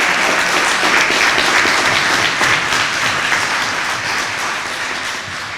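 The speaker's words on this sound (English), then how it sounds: "Let's have another really enthusiastic round of applause." An enthusiastic crowd at an inauguration ceremony for newly installed elected officials claps loudly and continuously, the thick applause holding strong before easing slightly toward the end.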